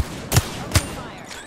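Two sharp gunshots ring out in an Apex Legends match, spaced a little under half a second apart, each a loud crack over a low game-ambience hum, with no voices.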